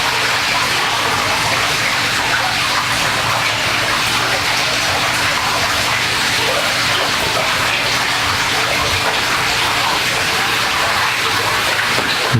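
Water runs continuously in a cave scene at a pirate museum exhibit, a loud, steady rushing and splashing wash that fills the whole space without pause.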